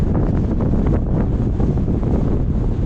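Steady wind buffeting the microphone on the summit of Arnison Crag in the Lake District, a loud continuous roar with gusty rumble and no voices.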